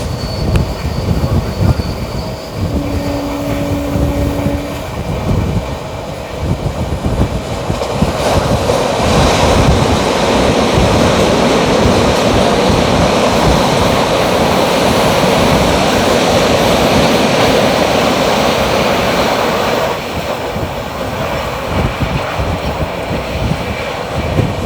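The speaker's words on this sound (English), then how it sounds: "We are about to enter the Dasgaon tunnel, which is the first tunnel on Konkan Railway from the Mumbai side." Duronto Express sleeper coach on the Konkan Railway near Dasgaon, heading into the Dasgaon tunnel: a loud, steady rumble of wheels and carriage noise that swells and roars continuously throughout, with no voices.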